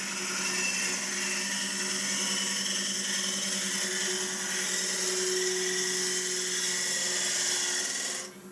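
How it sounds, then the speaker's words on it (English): A gouge makes a draw cut on a calabash bowl spinning on a wood lathe, a continuous close whine and hum with a fine scraping texture, steady throughout with no talk. "Now I'm doing the draw cut. The draw cut, I feel, removes the timber very quickly."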